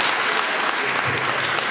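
Dense, steady applause from a crowd at a literary prize award ceremony, filling the whole moment without a break and without any voices standing out.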